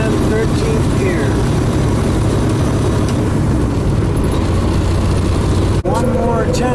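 A 13-speed truck engine runs loud and steady through the shift into 13th gear, with a broad low drone, a brief sharp dip near the end as the gear engages, and voices talking over it.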